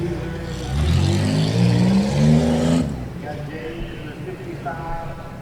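Six-cylinder class derby cars run on a county fair track, a loud engine roar rising and revving in the first half, then dropping to a lower, steadier rumble.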